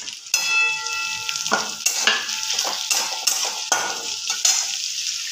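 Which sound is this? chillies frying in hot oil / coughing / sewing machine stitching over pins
chillies frying in hot oil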